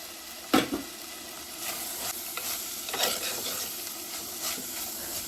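Chopped tomato sizzles steadily in a curry pan while a spoon stirs it in occasional scraping strokes, with one sharp knock near the start over a constant frying hiss.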